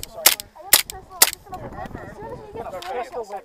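A KJW M9 airsoft pistol fires three sharp, snappy shots in quick succession during hectic outdoor airsoft gameplay, close and loud, followed by people talking and shouting.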